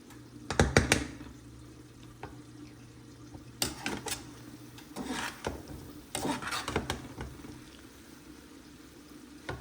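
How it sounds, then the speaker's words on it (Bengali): Biryani being stirred in a cooking pot, with irregular scraping and clattering strokes in bursts over a steady low simmer, fairly close. "সো আমি এখন একটু নেড়ে চেড়ে দিব।"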